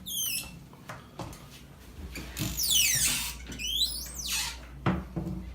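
Cheap Chinese door hinges on a frequently opened interior door squeal and creak repeatedly, with several drawn-out rising and falling squeaks and a few knocks, close and fairly loud with no voices.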